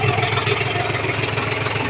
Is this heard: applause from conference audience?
no